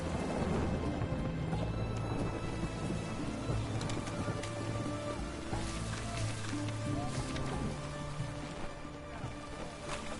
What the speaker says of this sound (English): It's raining, of course it's going to be done.